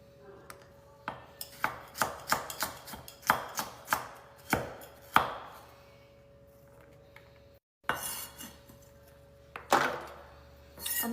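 Carrots are chopped with a knife on a board in a run of crisp, evenly spaced thunks, then after a brief pause a few more chops follow, close and clear.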